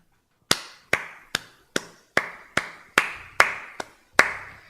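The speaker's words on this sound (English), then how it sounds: "Slow clap." Hands clapping nine times in a slow, steady rhythm, each sharp clap close and distinct with short gaps between, alone without any talk.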